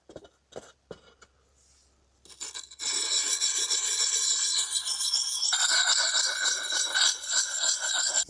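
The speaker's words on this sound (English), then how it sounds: "making sure the stone has contact, like flat contact with the edge" A knife edge being drawn across the smooth side of a sharpening stone, a few light scrapes at first, then steady, close, continuous rasping strokes with no talking.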